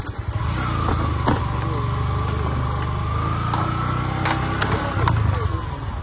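A motorbike carrying three riders along a road near Swarupkathi, Pirojpur, Bangladesh; a steady engine drone and road rumble run throughout, with occasional sharper rattles and faint voices in the background.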